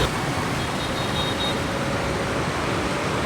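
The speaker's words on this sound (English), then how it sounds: "I could stay here and watch the traffic all afternoon." Dense city street traffic in Ho Chi Minh City, a constant loud roar of many engines blending into an unbroken wash of noise.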